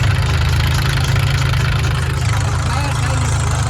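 Tractor engine running steadily nearby at a 6 Melidi Mata mandvo gathering in Babiyara Dham, a loud low continuous rumble throughout with voices faintly mixed in.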